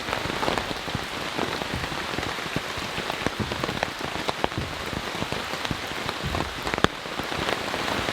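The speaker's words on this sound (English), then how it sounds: "since it's raining so hard at the moment" Heavy, steady rain drums on the ground and surfaces around a campsite during an intense storm, a dense, constant patter with occasional sharper drops and no voices.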